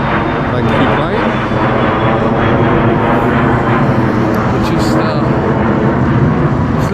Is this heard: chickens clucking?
no